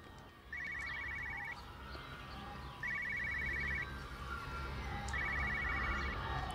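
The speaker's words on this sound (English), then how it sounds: "The phone ringing." A telephone rings in the video game Everybody's Gone to the Rapture, three evenly spaced bursts of rapid electronic trilling over a faint ambient hum, with no one speaking.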